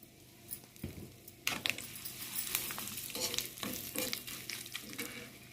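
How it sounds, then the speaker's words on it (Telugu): Curry leaves and asafoetida crackle in hot tempering oil for a cucumber-seed chutney, a close, steady sizzle with sharp popping bursts and occasional stirring scrapes, no speech. "వేగుతుండగానే కొంచెం కరివేపాకు వేసుకొని కొంచెం ఇంగువ వేసుకొని పోపు పెట్టుకుందాం"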